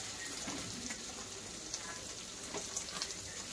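Onion and capsicum pieces frying in a pan for paneer chilli give a faint, even sizzle with scattered light crackles and pops throughout.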